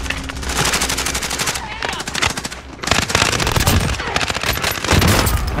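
Rapid automatic gunfire in the video game Call of Duty Warzone crackles in dense, loud bursts, nearly continuous with brief gaps, close and harsh throughout.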